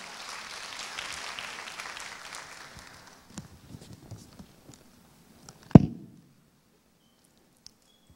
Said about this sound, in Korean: 앞으로 나올 때 우리 큰 박수로 격려 한번 해주시겠습니까?